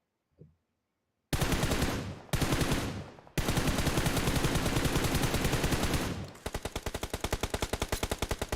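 Gunfire in an esports match from the Nigerian Pro League finals: loud sustained bursts of automatic fire broken by brief gaps, ending in a rapid, evenly spaced string of shots, with no talk over it.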